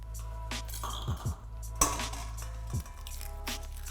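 Eggs cracked on a hard edge and dropped into a bowl, a few sharp taps and clinks with soft wet splats, close and clear over a steady low hum.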